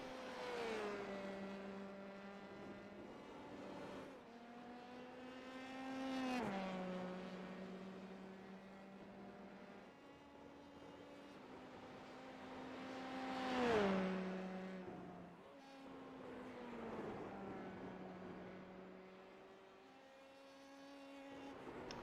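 Formula-style race cars whine through qualifying at Circuit Park Zandvoort in the video game iRacing, engine pitch rising through the gears and dropping sharply on several downshifts, moderately loud and alone.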